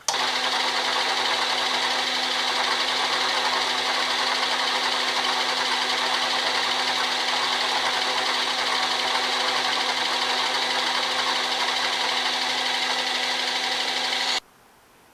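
A machine takes a single pass to shape a tool bit, producing a steady, loud mechanical whir with a constant hum for about fourteen seconds before it abruptly cuts off.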